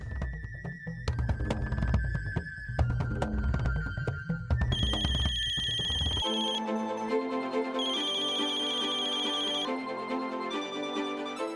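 A phone ringtone plays as a bright repeating electronic melody, first over a thumping beat, then as clear sustained chiming tones.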